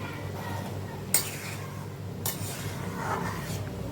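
Green banana curry cooks in a pan with a low, steady bubbling sizzle and two sharp stirring scrapes, close and without speech.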